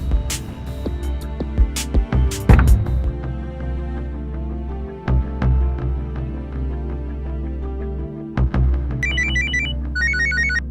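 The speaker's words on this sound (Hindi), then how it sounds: "फोन क्यों नहीं उठा रहा है?" A telephone rings on and on without being picked up, its electronic ring tone repeating over background music and scene sounds in an Indian crime drama.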